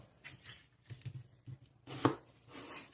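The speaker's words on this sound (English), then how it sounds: "Okay, we have some freshly scrubbed potatoes, so next you want to dice potatoes." A kitchen knife dices freshly scrubbed potatoes on a cutting board, giving a run of irregular close chopping knocks, with a louder cluster of cuts near the end.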